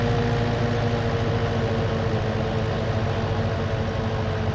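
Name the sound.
tractor engine in Farming Simulator 19 video game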